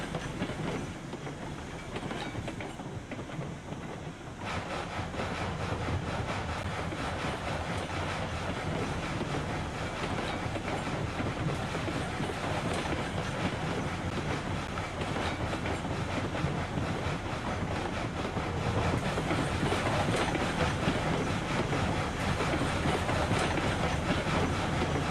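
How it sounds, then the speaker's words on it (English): A K27 steam locomotive pulling a heavy train coasts downhill in Railroads Online with brakes released, giving a dense, continuous rumble and rolling rail noise at a steady loudness. "we'll come off the brakes and just let the train kind of coast down in here"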